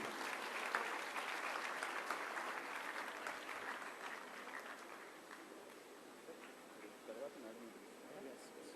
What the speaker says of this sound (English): let's give Shri Kare Baskar Garu, CGM and Zonal Head, Hyderabad Zone, a huge round of applause as he takes the stage